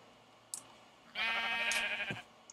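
Sheep in a Minecraft sword mod gives one long, wavering bleat after a couple of short clicks, clear and close, with a sharp hit sound at the end.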